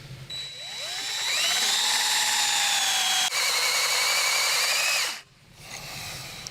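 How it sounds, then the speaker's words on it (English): A power drill bores into cast iron, its motor whining up to full speed and holding a loud, steady pitch for several seconds before cutting off abruptly, followed by a brief quieter spin-down. "today we're just going to drill to just show some identification"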